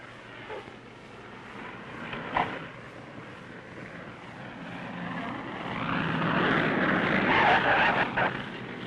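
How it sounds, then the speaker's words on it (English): An aircraft engine drones in the distance and slowly grows louder as planes arrive in Alaska after the 1964 earthquake, with a few faint knocks earlier on. "the planes start streaming in from the lower 48"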